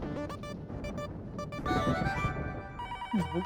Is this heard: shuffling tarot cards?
no